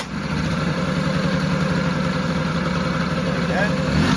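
A 1982 Honda Melody scooter with fuel system trouble catches and settles into a steady, close idle, its small engine putting out a continuous low throbbing hum throughout.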